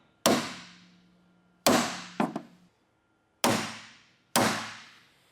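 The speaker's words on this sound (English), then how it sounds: "use our center punch to mark the hole" A hammer drives a center punch to mark a hole for billet tie-downs on a 2022-or-newer Toyota Tundra: five sharp metallic strikes, one a quick double hit, each ringing briefly and separated by pauses, close and clear.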